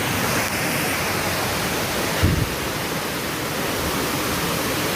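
The Orekkar waterfall in the forest roars as a loud, steady broadband rush of falling water, heard close and unbroken, with a single brief thump midway and no talk.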